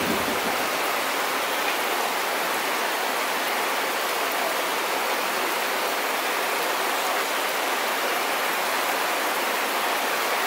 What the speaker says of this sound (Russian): Такой почти тропический ливень.